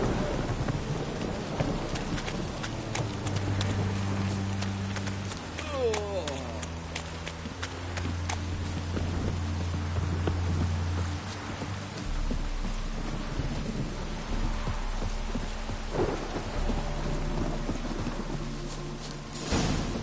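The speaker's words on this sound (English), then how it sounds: "Witches have conjured rain." Rain and thunder in the video game The Witcher III fill the scene as a constant wash of rainfall, with rumbling thunder and game music beneath it.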